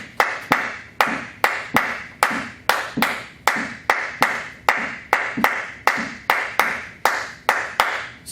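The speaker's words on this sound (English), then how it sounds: "Can you clap it for me," A 3-note clave rhythm clapped by hand, crisp close claps grouped in a repeating three-beat pattern that cycles steadily several times, alone with no talk.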